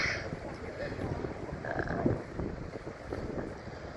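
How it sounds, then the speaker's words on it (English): Gusty wind buffets the microphone with a rough, low rumble, steady and loud throughout. "it's really windy"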